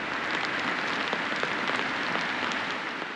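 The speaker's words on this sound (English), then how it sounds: "it's really starting to let down now" Rain falling at an RV base camp, a steady close patter of drops on a surface forming a dense, even hiss with scattered louder taps throughout.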